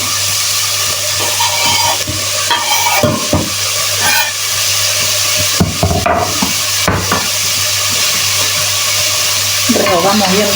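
Leeks, tender garlic and other vegetables sautéing in a pot for Italian minestrone, with a steady sizzle and intermittent stirring and utensil clinks close by.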